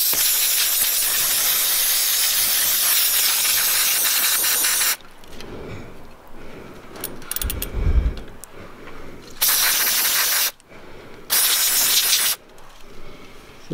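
WD-40 degreaser sprays onto a mountain bike cassette on a Felt Q720, a loud continuous hiss that later breaks into several separate bursts with quieter gaps between them.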